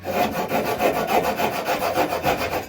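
Hand saw cutting through pallet wood in steady back-and-forth strokes, a close, loud rasping rhythm of about nine even strokes with no voices.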